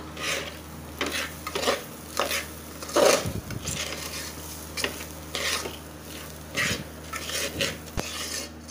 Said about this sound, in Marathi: परत जरासं हलवून घेऊया।